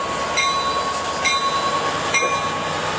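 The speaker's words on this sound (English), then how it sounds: "our last train, 457 here" A train rumbles steadily nearby at Oceanside Transit Center, with periodic clicks and a faint squeal as the cars roll by.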